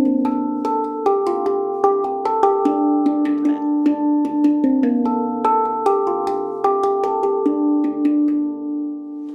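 A D Kurd handpan plays "Carol of the Bells" in a steady stream of struck, bell-like metal tones that ring and overlap. The notes sound close and bright, and no one speaks.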